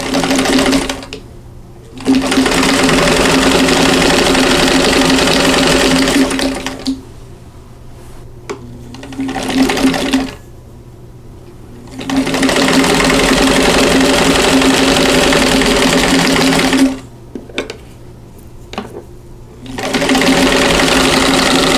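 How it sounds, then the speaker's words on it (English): Domestic sewing machine stitching a quilt block along a drawn line, running in loud steady bursts of several seconds separated by short pauses. "we're going to sew directly on that drawn line"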